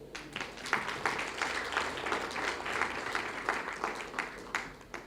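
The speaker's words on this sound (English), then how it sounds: "Another round of applause for him, please." A crowd at a Deepavali celebration in Tongaat applauds a speaker, with moderate, steady clapping that sounds somewhat distant and holds at a fairly even level throughout.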